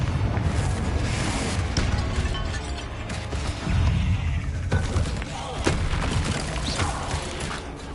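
In Hogwarts Legacy, the Confringo explosive spell lands as heavy booming thuds and crashes amid constant rumbling game noise, with several impacts spread across the stretch and no talking.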